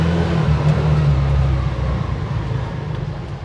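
An electric Piaggio Ape three-wheeler climbing uphill in first gear produces a steady, loud low drone with a humming motor tone that eases slightly toward the end, with no talking.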